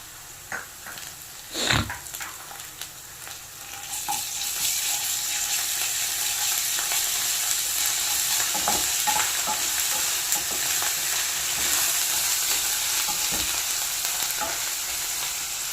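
Ginger, garlic and turmeric hit hot oil for a tomato curry, a few loud clanks and stirs at first, then a steady, dense sizzle that holds close and even to the end.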